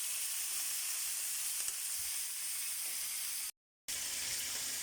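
Pork sautéing in a pan gives a quiet, steady sizzle close by, with soft stirring noises and a brief full cutout near the end.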